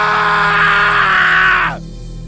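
A man's loud, drawn-out scream in a dark room at night, strained and harmonic, cutting off abruptly after about a second and a half with a low hum left behind.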